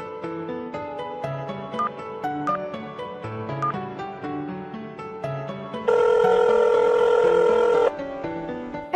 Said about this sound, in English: Now dial the emergency number and report to the police.